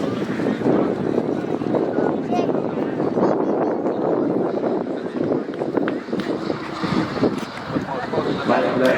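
A tailwheel light aircraft landing in strong wind at an air show, heard as a steady loud rush of wind and engine noise buffeting the microphone, with a commentator speaking over it.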